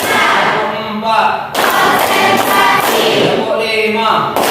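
Schoolchildren in a classroom clap out a four-beat rhythm together, sharp bursts of hand claps in short groups, loud and close, with children's voices chanting along between them.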